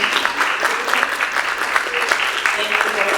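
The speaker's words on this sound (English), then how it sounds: "can we give you like a round of applause for this?" A round of applause from the audience at a San Diego Comic-Con 2024 panel on MENA representation in arts and entertainment, dense and sustained clapping filling the room at close, even loudness.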